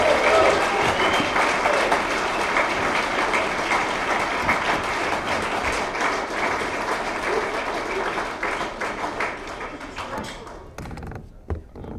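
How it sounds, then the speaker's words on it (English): An audience applauds for Joe Banister at an evening talk on the income tax, a dense steady wash of clapping that thins out and trails into scattered claps near the end. "a round of applause for Joe Banister"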